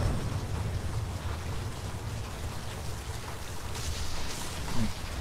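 Steady rain in the video game F.E.A.R. 3 hisses and patters throughout, with a low rumble underneath and no voices.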